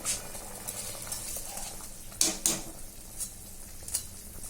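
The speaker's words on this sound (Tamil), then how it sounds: "அரிசியை சேர்த்து விட்டாச்சு. ஒரு தடவை கிளறி விட்டுருங்க." Rice is stirred in a pot of water over a steady bubbling, hissing boil, with a couple of brief scrapes and clinks.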